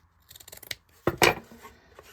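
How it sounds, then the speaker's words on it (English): Scissors snip through excess material on inexpensive dollar-store Valentine's decor, a few light clicks followed by two louder, close cuts, with no talking. "So let's cut the excess off first."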